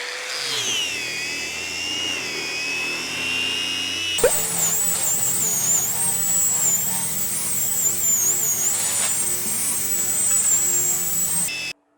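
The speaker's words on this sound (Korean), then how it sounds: "그 다음에 이제 사포질을 해야 돼요. 사포질." A steady, buzzing power sander with 60-grit sandpaper runs continuously on a wooden cutting board with a high whine, grinding close by for several seconds before cutting off abruptly.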